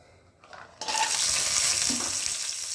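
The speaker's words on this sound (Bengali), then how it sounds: "আমার কড়ার তেল গরম হয়ে গেছে, এবার আমি বড়িগুলো দিয়ে দিচ্ছি।" Lentil dumplings (bori) drop into hot oil in a wok and burst into a loud, steady sizzle that stays strong, with a brief clink of utensils on the pan.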